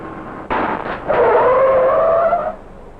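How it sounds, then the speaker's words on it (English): A car travelling about 30 miles an hour brakes hard, and its tires squeal loudly in a skid that lasts over a second before it comes to a stop. "it still took about 92 feet for the car to stop"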